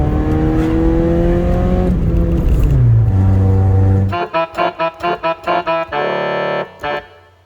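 A 416GTi with a broken, noisy exhaust accelerates hard, its engine note climbing through the gears with a rising whine. Then come a series of sharp, rhythmic blats and pops from the exhaust as the throttle is pulsed.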